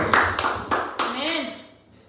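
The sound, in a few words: applause from church congregation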